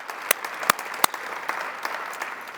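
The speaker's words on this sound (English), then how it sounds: "so I think that deserves a big round of applause" Audience applause at a fellowship launch event at a Toronto history museum, a light scattered clapping with a few sharp, loud individual claps standing out, brief and without voices.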